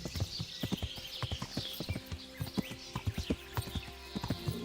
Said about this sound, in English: Really sounds like something's coming up behind me, but it's just our horse.